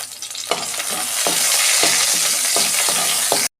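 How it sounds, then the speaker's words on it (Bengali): Five-spice tempering with a bay leaf and green chillies crackles loudly in hot oil in a kadai, a dense steady sizzle broken by several sharp stirring scrapes and spits, ending abruptly. "এই যে আমি ফোড়ন দিচ্ছি, 5 ফোড়ন, তেজপাতা"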